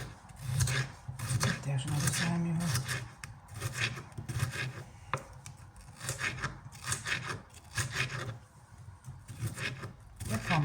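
A kitchen knife slices a bell pepper on a board for a salad, making quiet, close, rhythmic scraping and rubbing cutting strokes.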